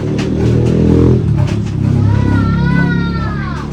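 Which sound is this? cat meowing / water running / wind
cat meowing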